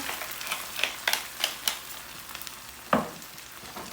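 Homemade tomato marinara sauce with salt and pepper cooking in a pan, giving a close, soft sizzle with several sharp crackling pops and spatters spread across a few seconds.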